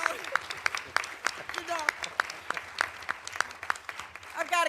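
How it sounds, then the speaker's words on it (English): Audience applause for Barbara Lee, a crowd clapping steadily at close range with sharp, rhythmic claps and a few voices mixed in. "Give Barbara Lee another great big round of applause for the work that she's doing."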